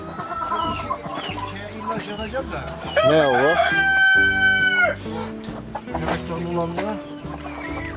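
Sick chickens and chicks cluck and squawk close by, with a rooster's loud crow in the middle and a brief spoken question from a person.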